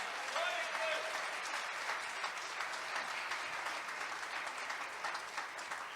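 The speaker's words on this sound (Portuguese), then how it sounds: "Aplausos para este Deus extraordinário." Church congregation at a Baptist home worship service applauding: a dense, steady wash of clapping from many hands lasting several seconds, with a voice briefly heard over it at the start.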